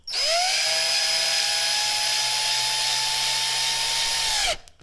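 Power drill boring a pilot hole into wood for a screw near the edge of a board, a single steady high whine that spins up, holds for about four seconds, then stops abruptly.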